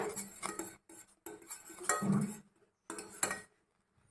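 A spoon clinks and scrapes against a bowl as breakfast food is stirred, in short, close bursts separated by brief pauses.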